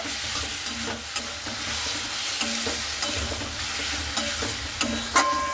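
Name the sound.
stirring taro stems frying in pan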